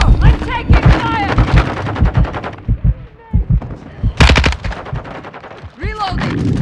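Rapid automatic rifle bursts and single shots crack loudly in a Call of Duty: Modern Warfare II firefight, mixed with shouted squad callouts between the volleys.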